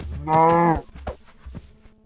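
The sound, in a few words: cow mooing in a video game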